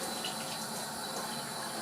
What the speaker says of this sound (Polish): Ręce maczamy w zimnej wodzie pod kranem